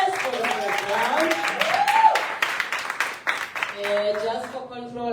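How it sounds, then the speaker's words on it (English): An audience claps for slam poets at a live poetry slam event, a scattered round of applause running beneath a host who keeps talking loudly over it. "a round of applause for our slammers"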